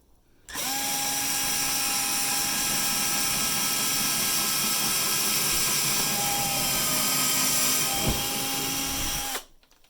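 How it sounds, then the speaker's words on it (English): A power drill whines steadily for about nine seconds at close range, drilling down through a model railway baseboard, its pitch holding constant, with a brief knock near the end before it stops. "I'm just going to place it on the baseboard, on the platform, and we're going to drill down"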